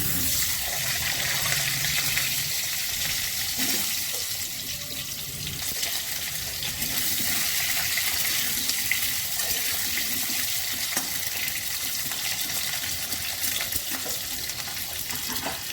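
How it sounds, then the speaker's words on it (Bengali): Potato pieces frying in a pan on a home kitchen stove after black cumin tempering, giving a continuous dense sizzle and hiss with faint stirring sounds, close and steady with no talk. "এবার আমি আলুগুলো দিয়ে দিচ্ছি"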